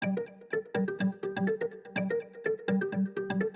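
A synth layer from Augmented Piano, wide and quiet, plays a plucked, bell-like pattern of repeated short notes in a steady rhythm, alone and without talk.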